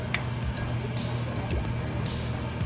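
Soy sauce and oyster sauce are poured into a noodle sauce, giving soft dripping and liquid trickles over a low steady background hum with no talk.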